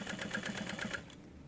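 Sewing machine stitching around a quilted trick or treat bag at a half-inch seam, a quiet close rapid mechanical whir and needle rhythm that stops abruptly after about a second.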